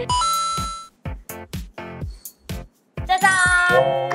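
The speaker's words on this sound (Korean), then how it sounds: "그냥 풍경 소리 들린다" Bright metallic tinkling of a wind chime rings out in clusters at the start and end, with short, separate notes and brief silences in between.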